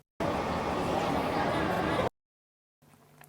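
A recorded crowd ambience texture, like a busy airport concourse, plays as a dense, steady murmur of distant voices and general hubbub for about two seconds before cutting out. A faint, low tail follows after a gap of silence.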